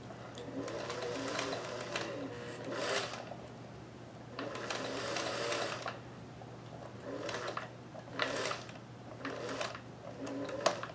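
A Singer 431G sewing machine stitching lace onto a bodice in the ditch, running in several bursts of rapid, even needle clatter with a steady motor hum and short pauses between runs.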